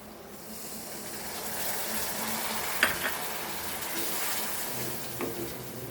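Food frying in a pan after vinegar is added, a steady sizzle that swells slightly, with a few sharp clinks and stirring sounds, no talking.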